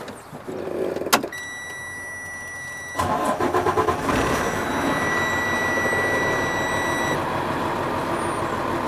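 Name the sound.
truck engine started, building up air brake pressure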